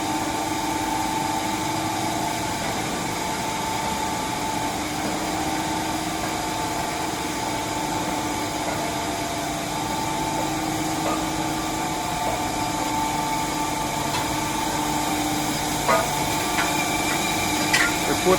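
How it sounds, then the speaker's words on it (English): Air-cooled 10 ton per day tube ice machine with flooded refrigeration running during defrosting, a loud continuous mechanical hum and whine with steady tones and occasional faint clicks near the end. "this is the 10 ton per day air-cooled cube ice machine. The ice will come out very soon. The machine is doing the defrosting."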